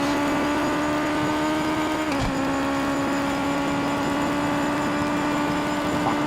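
A Japanese GT500 race car engine in the racing game PMR drones steadily at a constant high pitch, loud and continuous with no talking over it.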